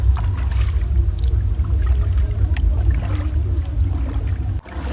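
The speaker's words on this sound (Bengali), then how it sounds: "সত্যি কথা বলতে আমি ভালো নৌকা চালাতে পারি না, একটু চেষ্টা করছি আর কি" A small wooden boat being rowed by an unpractised rower across quiet village water in rural Bangladesh, with steady low water and hull noise throughout and occasional soft splashes, ending in a sudden brief dropout.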